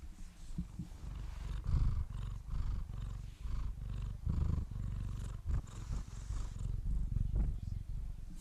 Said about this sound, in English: She just purring a little bit